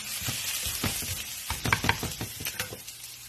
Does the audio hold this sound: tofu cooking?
yes